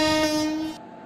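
Loud sustained train horn from an Indian train simulator video game, a steady multi-tone blast lasting most of a second before cutting off abruptly, with no voices.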